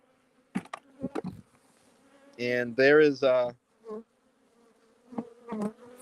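Honey bees buzz around hive frames of brood in dense, droning bursts, loudest through the middle, with a person speaking briefly before and after.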